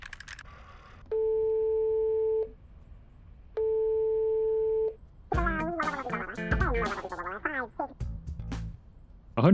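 Telephone tones in the Police Chief Simulator video game: two steady, loud ringback beeps of about a second and a half each, separated by a pause, followed by a burst of garbled game voice chatter.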